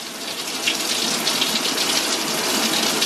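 Water gushes steadily from an off-grid, wood-fired, gravity-fed rainwater shower, a constant close hissing spray with no voices.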